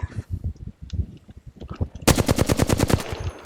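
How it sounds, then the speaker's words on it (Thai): Gunfire in the video game Apex Legends: scattered shots and distant bursts give way to a loud, rapid automatic burst of about a dozen evenly spaced rounds fired close by. "ยิงตัวนี้ ยิงตัวไหนก็ได้ให้มันเจ็บอ่ะ"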